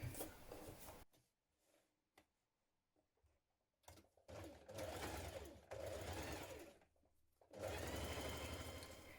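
Close sewing machine stitching a winter coat seam, running in several short bursts separated by pauses, with brief quiet handling sounds in between.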